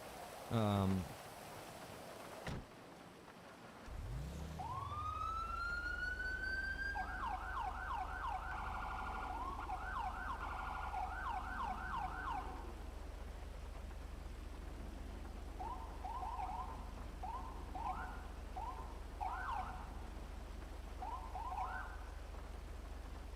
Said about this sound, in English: as soon as you jump into a police car and you start messing around with your sirens